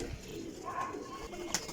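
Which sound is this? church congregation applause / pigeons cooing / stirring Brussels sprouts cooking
pigeons cooing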